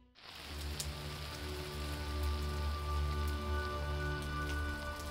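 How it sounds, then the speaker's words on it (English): Rain falls steadily outside a lodge porch at Three Rivers Lodge in Labrador, a dense even patter with occasional louder drips over a low hum, heard alone at moderate volume. "It's a rainy day here at Three Rivers Lodge."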